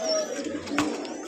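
Lotan pigeons in a dealer's coop, one soft coo rising briefly among faint background bird sounds, close and low.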